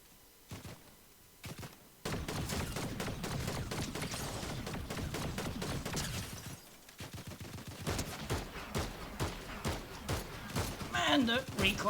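Rapid bursts of DMR rifle fire from a Fortnite match, loud and close, with a short quiet gap before dense repeated shots continue through the rest, interrupted once more by a brief lull.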